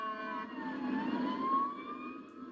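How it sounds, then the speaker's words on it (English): Fire engine sirens sounding in Litchfield at night during a fire, a steady wailing tone heard from a distance with a faint rise in pitch. "Sirens sounded again in Litchfield tonight."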